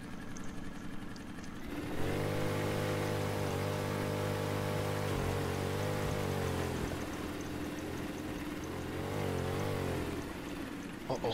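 An engine idles in a steady, close drone while the throttle gets a few short blips, lifting the pitch briefly near the middle and again toward the end before settling back. No one talks over it.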